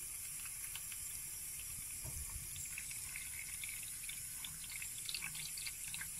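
A quiet, steady trickle of water runs into a jar of cucumbers being pickled, with faint splashes and drips against a soft background hiss.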